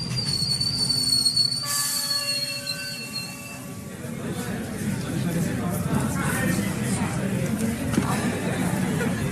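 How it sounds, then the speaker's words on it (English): An express train rumbles loudly with a brief high metallic squeal of wheels or brakes early on as it screeches to a halt, then continuing rolling noise and a murmur of voices. "The engineer made a desperate grab for the brakes and brought the express to a screeching halt."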